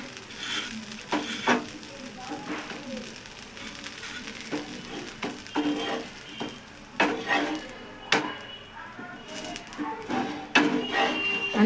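Dosa cooks on a pan with a steady sizzle, broken by repeated scraping and metallic clinks of a spatula against the pan, close and fairly loud with no talk.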